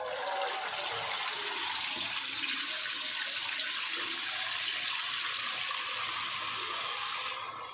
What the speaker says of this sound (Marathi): आता आपण ह्याचं गाळून पाणी काढणार आहोत आणि पीठ बनवणार आहोत